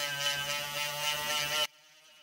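A grinder on the metal plunger of a DIY solenoid graver handpiece gives a steady, bright, close buzzing whir lasting under two seconds before cutting off abruptly.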